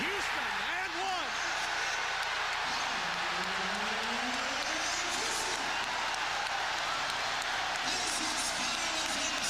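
A packed basketball arena roars during Game 6 of the 1999 Knicks vs. Pacers playoff series, a constant wash of crowd noise with swelling cheers beneath an announcer's play-by-play.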